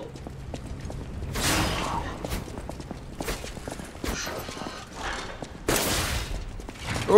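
Enemy gunfire in the video game Lies of P, several sharp bursts at irregular intervals over faint game ambience and footsteps, moderately loud, with no talking.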